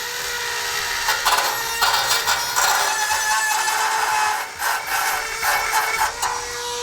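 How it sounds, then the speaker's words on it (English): A small cutting wheel notches the metal side of a vehicle frame during a Curt trailer hitch install on a 2016 Ford, a loud, steady grinding whine with brief dips as the wheel bites and eases off. "we're going to do is just use a little cutting wheel. Just notch out the side of it there"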